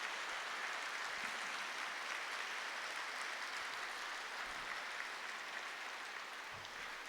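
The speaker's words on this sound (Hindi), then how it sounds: "जोरदार तालियां बजाएंगे।" Steady, dense applause from a seated audience at a spiritual gathering, a continuous even wash of clapping that holds at a constant level for the whole stretch with no voices over it.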